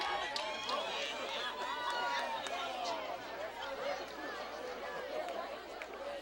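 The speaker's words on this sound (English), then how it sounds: "Big Red fans cheering a little bit" Softball fans at a Big Red versus Northern Huskies high school game, a mild murmur of crowd chatter and light cheering with spoken voices mixed through the steady background babble.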